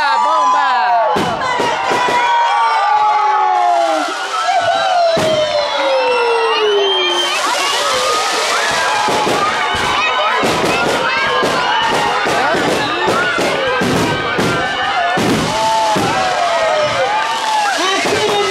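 Fireworks burst overhead at a children's lantern walk celebration, with sharp thumping bangs and crackles scattered through a loud crowd of cheering, shouting kids and adults.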